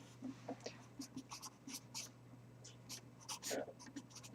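Chalk or marker scratching out a limit calculation on a classroom board, a quiet run of short irregular strokes and taps over a steady low electrical hum, with no talking.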